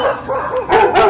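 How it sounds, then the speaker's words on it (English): Several neighborhood dogs tagging along on a morning walk bark and yip loudly at close range, a short overlapping burst of calls without any voices. "Dogs are following us everywhere."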